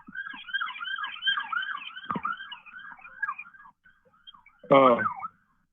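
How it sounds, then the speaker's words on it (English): Wailing emergency sirens rise and fall steadily for several seconds, a short thump in the middle, then a brief burst of another siren tone near the end. "hold on, the sirens, I'm sorry."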